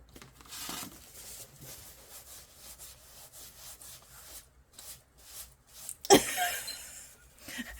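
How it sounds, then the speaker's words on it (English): A paper towel rubbing against a leather jacket gives a soft, dry rustling and scraping that comes and goes, then swells into a sharper, louder rasp near the end. "That noise that you could hear a second ago was a paper towel on Marlies' jacket"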